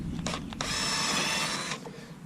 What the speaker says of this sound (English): let's go ahead and drill the vent hole